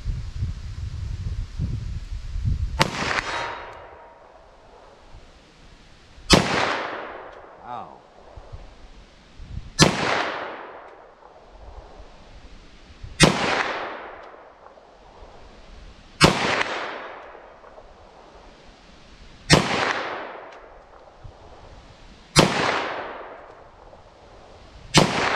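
.357 Sig pistol shots at an outdoor range, seven sharp loud cracks spaced a few seconds apart, each trailing off in a long echoing decay.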